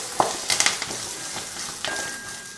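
Salt and turmeric being stirred in a pan of hot tempering oil, a few quick scraping strokes over a soft, steady sizzle, close and fairly quiet.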